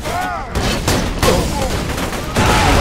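Rapid gunfire from enemy robots in the Borderlands 2 shooter game, loud bursts of shots cracking in quick succession while a player talks over the barrage.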